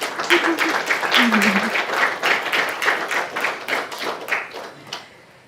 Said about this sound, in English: We still clap for Nancy